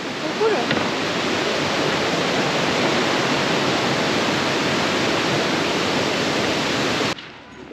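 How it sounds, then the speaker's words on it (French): A steady, dense roar of rushing water from the Kuang Si waterfall in Laos, loud and continuous throughout before cutting off near the end. "on va être à côté des cascades"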